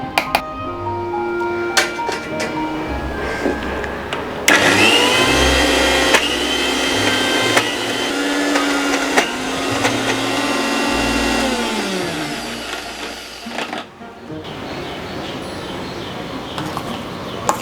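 Kitchen mixer grinder pulsing ridge gourd chutney, loud close motor bursts that start, stop and restart several times, with short quiet gaps between runs.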